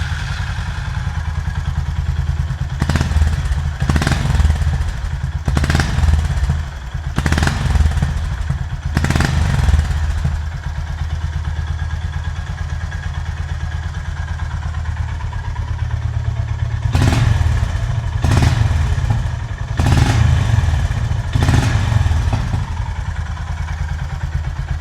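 A Honda GB350S motorcycle engine runs steadily in a shop with a loud, throbbing low idle, broken by a series of sharp revs in two bursts, each blip falling back to idle.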